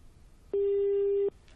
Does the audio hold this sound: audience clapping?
no